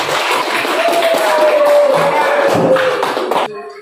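Students in a classroom clap for a fellow student group, steady brisk clapping close by with some chatter and shuffling, stopping abruptly near the end.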